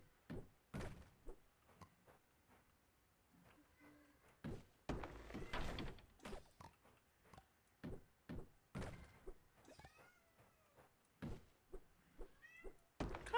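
A pet cat in The Sims 4 meows several times, short separate calls amid game thuds and clicks, with occasional faint background effects and little talk.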